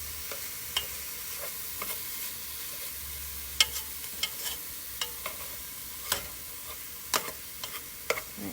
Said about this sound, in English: I'm kind of just using my spoon to break the sausage.